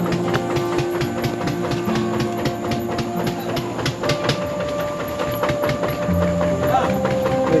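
A makeshift rail vehicle rolls along tracks in Bengkulu Utara, Sumatra, giving a continuous close rumble with scattered metallic clicks and knocks, and people talk over it.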